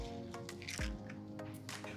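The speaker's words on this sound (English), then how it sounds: "We're gonna crack our egg and then drop it into our pan gently." An egg cracked and dropped gently into a frying pan, giving a single soft wet squish and drip close by, with faint background noise and no talk.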